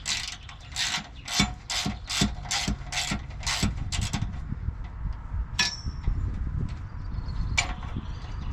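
A ratchet wrench snugging 12mm nuts on the end links of a Toyota Land Cruiser FJ80, quick bursts of clicking strokes followed by a few sparser clicks and metallic taps, close with no talk.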